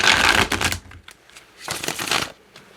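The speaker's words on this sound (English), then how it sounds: "shuffling and holding this deck is so much easier than holding and shuffling, riffle shuffling" Two quick bursts of a tarot card deck being shuffled, crisp and close, separated by a short pause.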